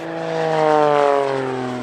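An aerobatic propeller aircraft at the Leszno airshow drones past with a strong harmonic engine tone that swells, peaks and eases slightly as the pitch gently falls during a slow manoeuvre.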